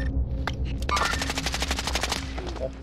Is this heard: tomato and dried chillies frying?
no